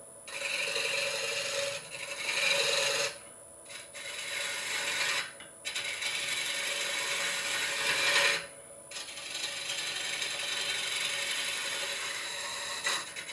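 Wood lathe roughing out a green cherry log into a bowl, a steady abrasive rasping cut that runs throughout, broken by a few short pauses as the gouge lifts off the spinning wood.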